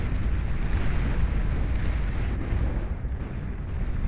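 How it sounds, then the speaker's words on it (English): Artillery from a geothermal battery in the strategy game Beyond All Reason during an 8v8 deathmatch, a continuous rumbling barrage of distant booms and bursts rolling on without pause and without any talking. "Geothermal battery firing away left, right, and center"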